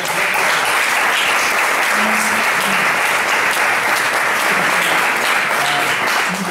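An audience at a football talk and discussion event breaks into sustained, loud applause that stays dense and even throughout, with faint voices mixed in.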